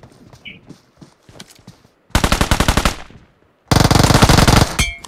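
Automatic gunfire in the mobile battle royale game BGMI: two loud sustained bursts of rapid shots, the first about a second long and the second longer, preceded by quieter scattered shots and faint talk.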